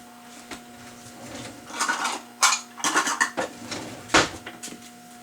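Dishes and a measuring cup clatter and clink as it is pulled out from among other kitchenware, in a series of irregular sharp knocks and scrapes at close range.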